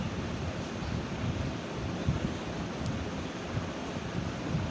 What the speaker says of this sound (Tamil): நல்லா உரசி கழுவிக்கலாம்